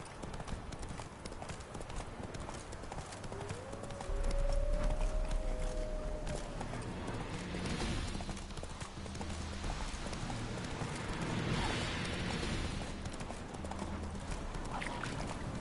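Roach the horse trotting in the Witcher 3 video game, a steady rhythmic clip-clop of hooves over ambient game sound, with a voice speaking faintly at moments.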